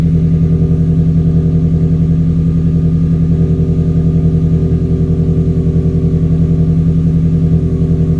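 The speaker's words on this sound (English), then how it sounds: "So the idle's come down a little bit, but it's still pretty loud." A Subaru STI idles loudly and steadily for several seconds, a close, even engine drone with a low throb and no voices.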